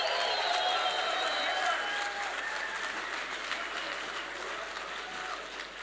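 A large audience at an awards event applauds, a dense sustained wash of clapping that slowly fades.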